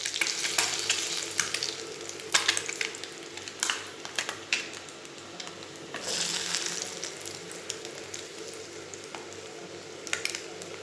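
Eggs fried red-brown in a pan for egg thokku, a continuous close sizzle with crackling spits and occasional utensil stirring scrapes and clicks.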